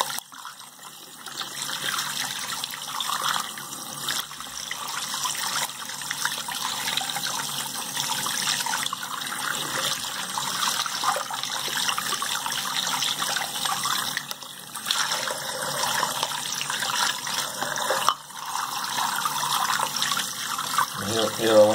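Running water rinses the components of a clogged shower drain, a steady hissing stream with splashing that continues alone throughout.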